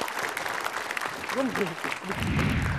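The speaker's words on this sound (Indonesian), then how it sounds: "Oke, tepuk tangan dong" A studio audience at an Indonesian Ramadan night TV show applauds steadily, with voices and crowd noise mixed in throughout.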